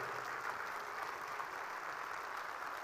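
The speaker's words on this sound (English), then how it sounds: "Guys, this slide deserves a massive, massive round of applause." Audience applause at a product launch for the Revolt RV400 electric motorcycle, a soft, even wash of clapping from a hall crowd, heard at moderate distance and sustained without voices.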